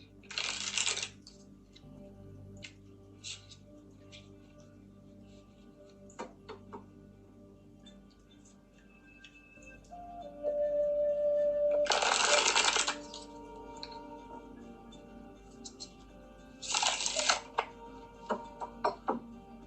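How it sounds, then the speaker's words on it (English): Tarot cards are riffled and shuffled in a few short, crisp bursts, separated by quiet handling, taps and small clicks. "I'm shuffling your cards, and I'm going to use the same cards as before"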